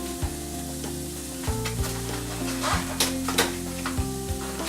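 Food cooks slowly in a pan over lowered heat, giving a steady, close sizzle with scattered crackles and a tonal hum running underneath.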